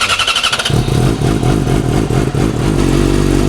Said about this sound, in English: we're going to give you guys a nice cold start of the new Acura exhaust line